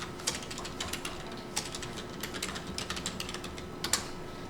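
Someone types a road-name address on a computer keyboard while using a shopping site: a steady run of crisp, close key clicks at an uneven pace, with a few sharper strokes near the end, heard alone with no talk.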